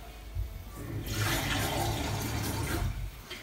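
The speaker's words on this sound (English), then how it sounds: "I'm going to just put some cold water in this jug" Cold water gushes from a kitchen tap into a jug, a loud rushing pour that starts abruptly and runs steadily for a few seconds, close by.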